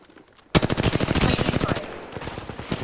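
Rapid automatic gunfire in Apex Legends opens abruptly and rattles in a tight fast burst for over a second, loud and close, then trails off into scattered echoing tail shots.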